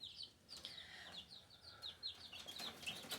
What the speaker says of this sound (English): So here we have some chicks that are a couple weeks old.